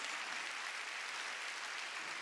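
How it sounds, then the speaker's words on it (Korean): Applause from a church congregation at a Wednesday worship service, heard as a dense, steady wash of clapping that holds at an even level for about two seconds with no voices over it. "박수."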